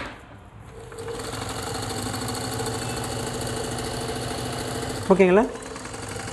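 A freshly fitted electric motor runs with a steady, loud hum and faint rattle throughout, joined by a brief burst of a man's speech near the end.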